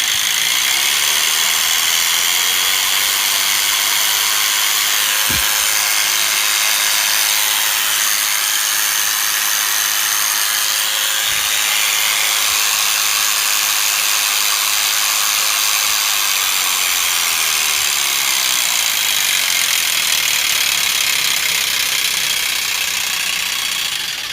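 A 750-watt electric animal hair clipper runs continuously up close, a steady buzzing whine that shifts slightly in pitch as the speed is changed, with no talking.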